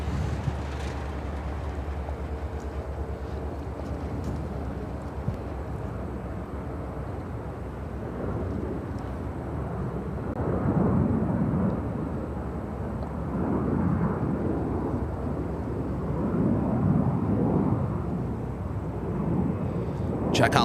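A plane taking off from runway 22 left at Chicago O'Hare Airport, its distant roar building gradually over twenty seconds beneath radio chatter and nearby voices.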